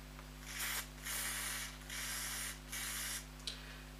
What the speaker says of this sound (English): just do a small, tiny small spray.